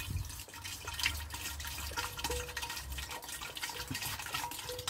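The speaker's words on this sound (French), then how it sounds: "je vais mettre ici 1 litre de mon mélange de prêle. Voilà, directement dedans." Horsetail mixture poured into a 5-litre container, a faint trickling and splashing liquid sound with low gurgles and small drips.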